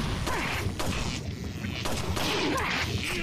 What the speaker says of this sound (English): Ow, he shot me.